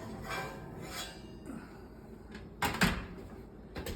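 A kitchen oven door opens and a preheated cast iron pan is lifted out, with soft clunks and a sharp metallic clank close by, then a final knock as the pan is set down.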